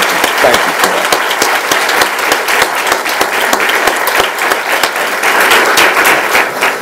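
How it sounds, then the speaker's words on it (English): A large audience at a 2018 Fort Worth school district convocation gives a big round of applause for a singer, with dense, sharp clapping sustained across the whole stretch. "Let's give Charlie another big round of applause"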